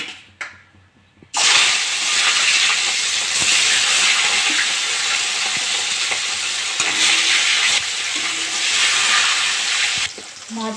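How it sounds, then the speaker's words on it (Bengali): Steady, loud sizzling of rohu (pona) fish frying in mustard oil, a continuous crackling hiss with occasional soft clinks, no talking. "তেলটা গরম হয়ে গেছে মাছগুলো ভেজে নেব"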